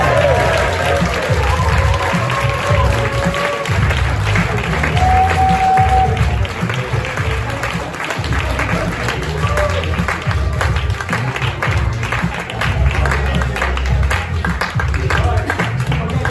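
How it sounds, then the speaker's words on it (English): A crowd applauds and cheers a winner announced at a startup cohort showcase, long sustained clapping mixed with whoops and loud voices, holding steady and full for over fifteen seconds. "if you can give a round of applause when I announce and you can come up and get them"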